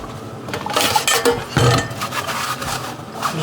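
A rice cooker pot and a small cup are handled in a home kitchen at night, giving close, fairly loud clinks and knocks of kitchenware in an irregular run, with no talking.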